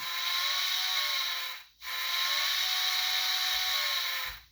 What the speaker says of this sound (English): that's just the factory default whistle.